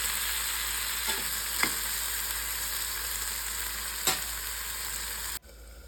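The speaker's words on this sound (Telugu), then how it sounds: "కొద్దిగా పసుపు, కొద్దిగా కలిపి అలాగా ముక్క బాగా మెత్తపడిన దాకా వేగించుకోవాలి." Jackfruit seed pieces fry with salt and turmeric in a pan, a constant close sizzle with a few sharp scrapes of stirring, then the sizzling cuts off abruptly near the end.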